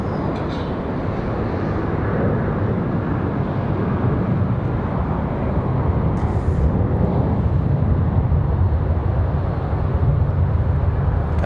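A Boeing 737 airliner takes off bound for DFW, its jet engines a powerful, steady broadband roar heard from the airport side, holding loud throughout without talk.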